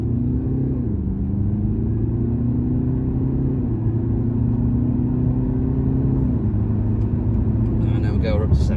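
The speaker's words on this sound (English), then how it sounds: "Let's try the car out for acceleration." A 2022 BMW 520d M Sport G30 saloon with a 2-litre four-cylinder turbocharged diesel engine accelerates up a motorway slip road, its steady engine drone rising in pitch through gear changes, heard from inside the cabin.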